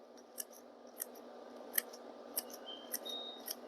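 Scissors making little snips in the edge of paper for a mini piñata, about seven crisp metallic clicks spaced roughly half a second apart, close and quiet over a soft background hiss.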